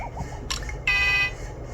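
A short, bright electronic honk sounds once, preceded by a brief buzzy blip, from a LEGO Super Mario Kart toy car horn (set 72035, Toad's Garage).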